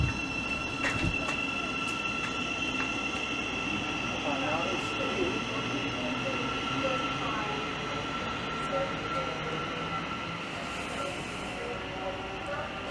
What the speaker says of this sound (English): And that's now departing off to its next stop of Leagrave.